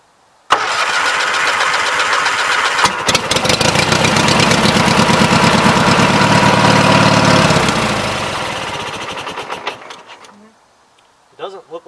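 A 20-G engine cranks over during a start attempt with a loud, sustained, rhythmic churning that fails to catch, then winds down and stops, leaving near silence with a brief clatter at the end.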